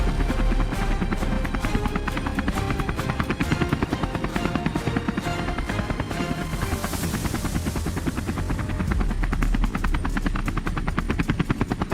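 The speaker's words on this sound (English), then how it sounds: "We boarded the compact helicopter and headed out toward the mist-covered fields." A compact helicopter flies close by, its rotor blades chopping in a fast, loud, continuous rhythmic thump throughout, with a slight swell in the middle.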